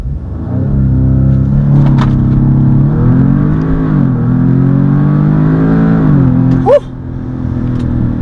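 An Audi S3 engine roars hard during a launch, its pitch climbing as it accelerates in a steady surge, then a brief shift and the revving continues.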